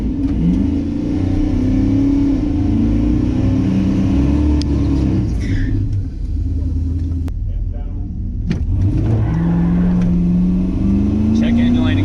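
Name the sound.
truck accelerating hard off the line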